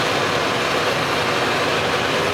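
A John Deere 6115R tractor engine runs under throttle, a dense, loud, steady roar with no talk over it.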